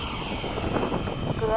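An F-104 jet aircraft begins its takeoff run, a loud steady engine roar with a high whine, while someone talks over it.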